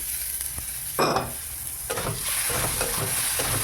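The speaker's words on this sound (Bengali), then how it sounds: "একটু নেড়ে চেড়ে নেব।" A spoon stirs bottle gourd and tomato curry with green chillies in a hot pan, scraping and clinking a few times over a steady background sizzle.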